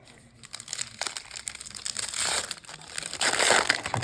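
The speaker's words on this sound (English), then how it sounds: "Some nice little sounds, some unwrapping there." Close, crackling crinkles and crunches of plastic wrapping being peeled off a Magic: The Gathering trading card bundle, irregular and building louder toward the end, with no talking.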